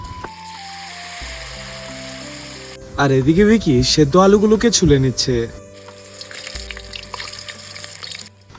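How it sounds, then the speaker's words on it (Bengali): Wild-leaf fritters frying in mustard oil in a wok outdoors by a river in the forest, a steady low sizzle running beneath background music, with a voice speaking over it partway through. "এখন 1-2টো করে বড়া ছেড়ে দিব"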